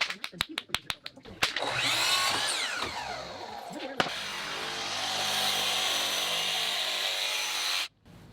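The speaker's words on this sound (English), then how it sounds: "So just taking a little bit out of this corner with the jigsaw" A jigsaw notches the corner of a wooden trim piece for an exterior column, starting after a few sharp taps and then cutting in a loud, steady buzzing rasp that rises in pitch and stops abruptly near the end.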